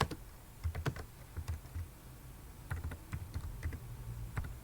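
Fingers type a sentence on a computer keyboard, producing quiet, close clusters of key clicks in irregular bursts with short pauses between words.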